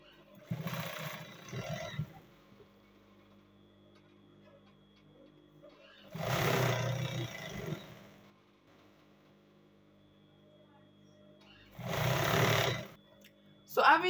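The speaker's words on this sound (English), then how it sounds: "I'll proceed to take my band now" Three separate bursts of a sewing machine stitching a trouser waistband, each a couple of seconds long and fairly close, with quiet gaps and a low hum between them.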